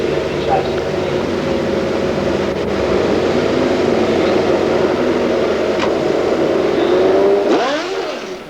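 A 360 Kawasaki drag racing motorcycle revs at a drag strip meet, a steady loud engine roar that swells and climbs sharply near the end, under a commentator's voice and crowd ambience.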